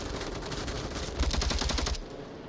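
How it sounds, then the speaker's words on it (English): Suppressive gunfire in the VR shooter Onward crackles as a steady rattle, then a tight, louder burst of about eight rapid shots before cutting off, close and alone. "Narcotizer popping out for some suppressive fire"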